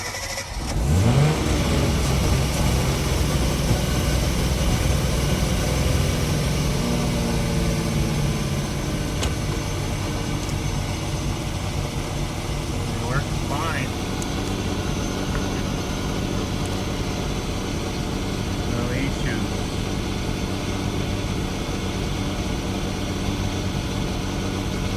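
A Nissan RB26DETT engine, fitted with a Haltech Elite 2500 ECU, cranks briefly and catches, then settles into a loud, steady idle close by, with faint clicks and a couple of small pitch shifts over the long running stretch.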